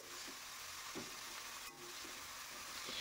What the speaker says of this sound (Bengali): সব শাকগুলো দিয়ে একটু নেড়ে নেব।